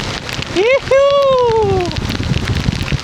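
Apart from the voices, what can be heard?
rain falling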